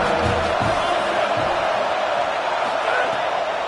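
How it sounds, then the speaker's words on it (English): Stadium crowd roars and cheers steadily throughout a college football game in NCAA 25, a dense, sustained wash of noise with a commentator's voice heard faintly. "the crowd gets behind this defense."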